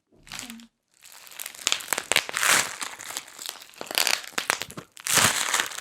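Plastic packing bags from a boxed stationery order are squeezed and popped, giving dense crinkling and crackling bursts that run almost continuously, with a short pause near the start.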